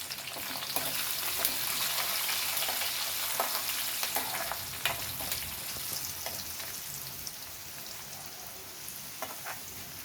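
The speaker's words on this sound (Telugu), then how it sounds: "మనం తీసుకెట్టుకున్న ఇంగువ పొడి కొంచెం ఇందులో తాలింపులో వేద్దాము" Asafoetida powder frying in a hot oil tempering for gongura pachadi, a continuous close sizzle and crackle with scattered pops and light stirring.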